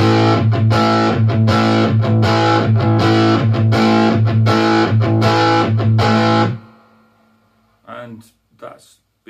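A loud, heavily distorted cigar box guitar riff chugs in a steady rhythm, then stops abruptly, leaving a couple of short, quieter plucks.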